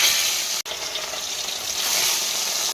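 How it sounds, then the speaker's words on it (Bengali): Fresh rohu fish pieces fry in a pan with a loud, continuous hissing sizzle, close by, broken by two brief near-silent cuts, with no voices. "চলো এখন মাছটা ভেজে নিই।"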